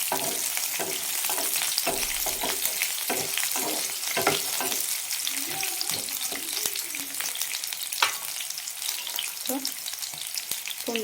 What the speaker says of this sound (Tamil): கடலைப்பருப்பு வதங்கினதும் நம்ம நறுக்கி வச்ச வெங்காயத்தை சேர்த்துக்கலாங்க.